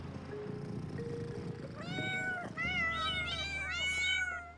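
A cat meows several times in quick succession, rising and falling cries that grow louder and more drawn out toward the end, heard close over a low steady background hum.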